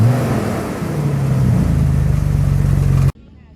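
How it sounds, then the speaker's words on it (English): A 1997 Jeep Wrangler TJ with a manual transmission that has lost first gear idles and revs loudly up close, holding a steady engine drone before cutting off abruptly, with a voice talking over it. "It looks like Dennis here in his TJ has lost first gear, so he is going to reverse it all the way back to his trailer"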